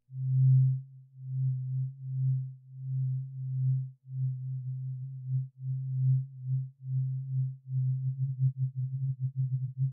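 A low, pure synthesized tone with granular synthesis and smoothing turned up hums in a series of swelling, choppy segments, breaking into faster stuttering pulses toward the end.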